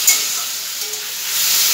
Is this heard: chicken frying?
yes